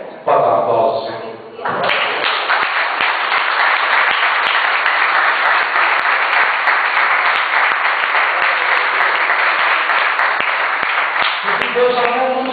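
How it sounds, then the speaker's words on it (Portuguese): Loud, sustained applause fills a church congregation for about ten seconds, dense and even, with a voice speaking briefly before it starts and again as it fades. "Pode dar aplausos, Senhor."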